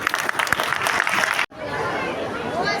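Applause from a church congregation during a Catholic Christmas program, steady clapping with crowd chatter that cuts off briefly before a softer murmur of voices continues.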